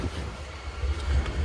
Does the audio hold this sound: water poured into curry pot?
no